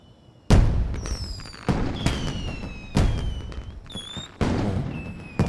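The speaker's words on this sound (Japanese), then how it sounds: "그때 하늘에 커다란 불꽃놀이가 터지고" Four loud firework bursts boom one after another, each followed by crackling and a high whistling streak fading out.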